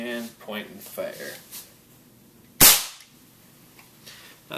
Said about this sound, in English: And point and fire.